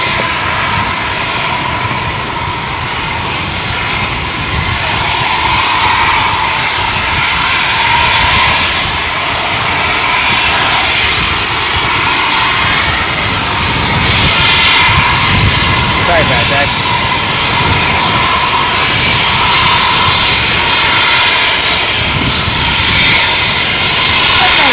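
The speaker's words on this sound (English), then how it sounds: "Lancaster bombers taxiing out." Propeller engines of Lancaster bombers drone loudly as they taxi at RAF Coningsby, a sustained, slowly swelling roar with a person talking over it throughout.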